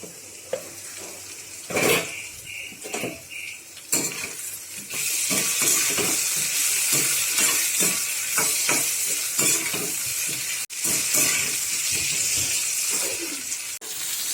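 Raw banana slices fry in a pan, partly covered, and are turned often with a utensil. A steady close sizzle runs throughout, broken by repeated scraping and clattering stirs and a few sharp lid or pan knocks, with no talking.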